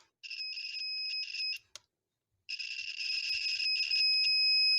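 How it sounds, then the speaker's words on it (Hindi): A multimeter in continuity buzzer mode sounds a steady high electronic tone in several long bursts with brief dropouts, a gap of silence, then a longer sustained beep, clear and close with no talk. "ये देखिए बजर मोड में"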